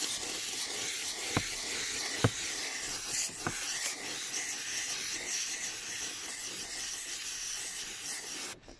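A steam cleaner hisses steadily over moldy carpet, a broad continuous rushing close by, broken by a few sharp clicks and bumps.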